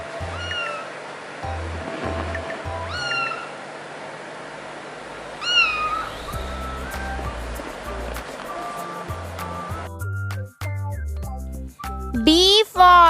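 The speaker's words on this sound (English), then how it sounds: "C for cat." A cartoonish cat meows several times over a steady bouncy children's alphabet tune, the mews bright and clear above the music, with a voice singing along.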